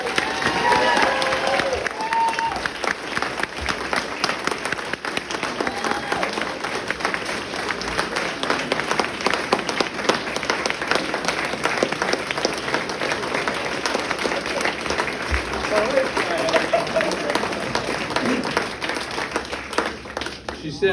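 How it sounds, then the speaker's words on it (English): A large crowd applauds steadily and loudly, with some cheering mixed in, sustained for the whole stretch. "How about a big applause for Allison?"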